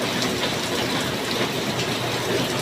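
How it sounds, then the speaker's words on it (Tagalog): Heavy morning rain falls steadily as a dense, even hiss that holds at the same level throughout, with no voices and no breaks in the downpour. "Sobrang lakas ng ulan."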